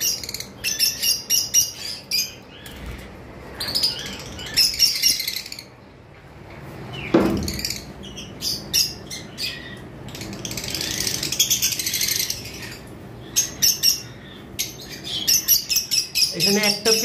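Lovebirds, including green Fischer's opaline and ewing pairs in a large collection, chirp and tweet in dense, overlapping bursts throughout, with a busy flock chatter and a few louder calls near the listener.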